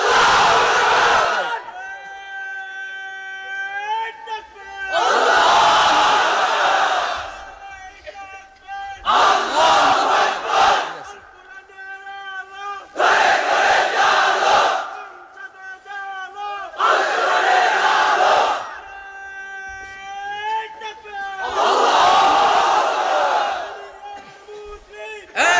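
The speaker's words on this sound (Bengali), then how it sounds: "এবার অবিবাহিতরা দাও লিল্লাহি তাকবীর।" A large crowd of unmarried men at an Islamic sermon gathering roars the chant Lillahi Takbir in unison, loud sustained bursts repeating about every four seconds with a leader's call between them.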